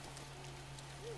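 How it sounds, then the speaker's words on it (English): Rain falling in the video game Zelda: Breath of the Wild, a faint, steady hiss over a low constant hum, with no talking. "it's raining, so it didn't work"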